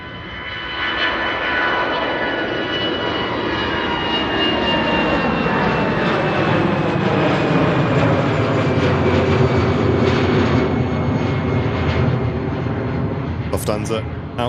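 A Lufthansa jet takes off from Manchester Airport bound for Frankfurt, its loud, steady engine roar building and holding close for the whole stretch, with a voice faintly audible underneath near the end.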